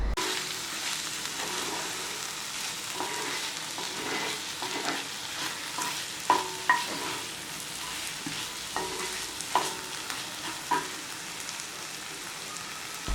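Prawns frying with coriander in a pan sizzle steadily while a spoon stirs them, scraping and clacking against the metal at irregular moments; close, continuous and without speech.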